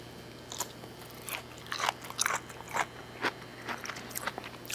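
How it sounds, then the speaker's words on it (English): Crisp bites and chewing on a roasted carrot, cooked with garlic vegetables: a series of sharp crunches spread irregularly over a few seconds, close and fairly loud, with no talking. "I'm just going to eat this carrot."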